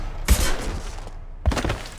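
Gunfire in Mass Effect 2: two sharp, loud bursts of shots about a second apart, each with a short ringing tail.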